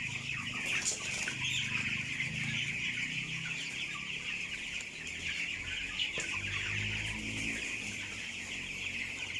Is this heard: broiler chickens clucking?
yes